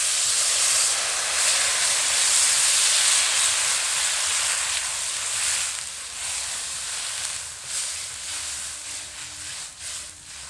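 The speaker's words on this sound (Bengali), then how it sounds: "ঝোলটা ফুটতে শুরু করেছে" Curry gravy with turmeric begins to boil in a pan, giving a steady broad hiss and sizzle that slowly softens, with faint bubbling pops toward the end.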